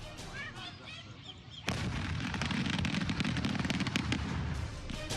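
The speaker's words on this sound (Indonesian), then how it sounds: "Bahkan suara ledakan terdengar hingga ke permukiman warga." A large unmanned hot air balloon loaded with firecrackers exploding over rice fields in Ponorogo, East Java: after muffled voices, a sudden loud blast opens into a sustained rumble of dense crackling bursts.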